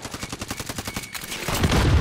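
Rapid automatic gunfire in a Call of Duty game, a quick run of close, evenly spaced shots followed by a louder burst of noise.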